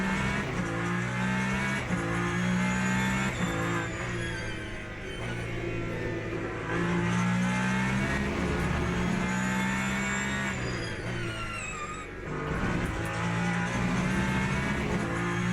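Hybrid race car in Le Mans Ultimate lapping Monza, its engine droning loudly and continuously with rising and falling pitch through upshifts and a brief dip near the end, alone without speech.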